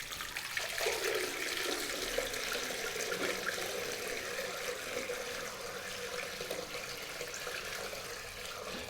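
Water runs steadily into floral arrangement dishes, a soft continuous splashing pour that stays faint and even from start to finish, with no talking.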